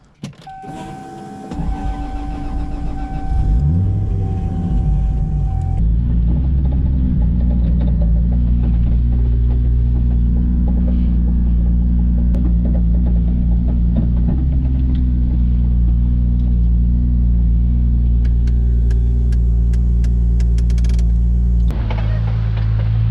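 A Lexus SC300's engine starts after a short whirr and then runs steadily in first gear, a loud, close, continuous low drone for around twenty seconds with some faint mechanical ticks and no talking.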